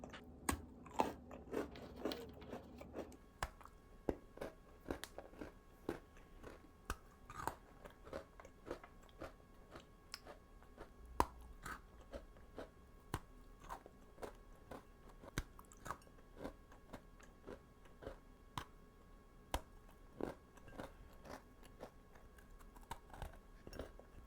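Crunchy macadamia biscotti chewed close to the mic, a long run of sharp, irregular crunches and bites over quiet background, with no talk.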